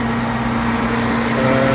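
A 2001 Saab 9-3 Turbo convertible engine idles smoothly and steadily up close, a continuous even hum with a faint hum tone and no change in revs.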